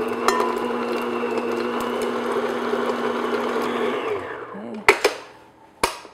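An electric mixer beats butter on medium speed with a steady, loud motor whir that winds down and stops near the end, followed by a couple of sharp knocks against the bowl.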